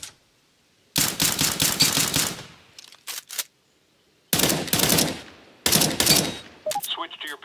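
Rapid bursts of automatic gunfire from a Counter-Strike: Global Offensive training course, three loud sustained volleys separated by short pauses and a brief clatter, ending in lighter mechanical clicks.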